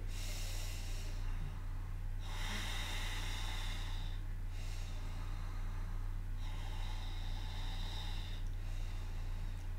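Slow, deep ocean breathing through the nose with a constricted throat, each long exhale hissing like waves, repeating about every two seconds over a steady low hum.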